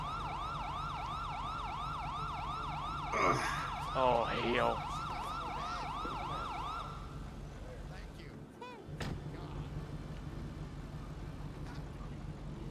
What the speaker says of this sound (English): he's gonna be hearing sirens for the rest of the day